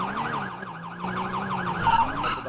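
Wailing police car siren from the game GTA V, rising and falling in a steady repeated sweep, fairly close and loud over a low engine hum, with a brief sharper burst near the end.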